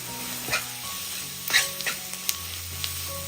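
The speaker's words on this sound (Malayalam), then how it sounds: "പൊടിയുടെ പച്ചമണം മാറി കിട്ടുന്നവരെ ഒന്ന് ഇളക്കി കൊടുക്കാം" Spice powders, including garam masala, sizzle in a hot pan while being stirred, giving a steady close frying hiss with a few light scrapes and clinks.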